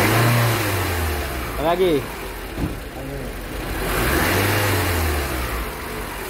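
A Lexus RX 270 engine idles and is revved in two quick blips, the pitch climbing and falling each time, while people talk nearby.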